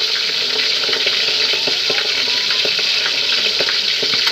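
Hot oil frying bangus (milkfish) in a home kitchen, a loud dense sizzle with scattered sharp pops and crackles throughout, steady and close, with no talk.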